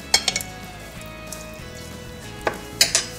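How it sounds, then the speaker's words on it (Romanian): Tomato sauce simmering in a pan gives a faint background sizzle, broken by a few sharp clinks of utensils against cookware near the start and end. "Cât timp se gătește sosul"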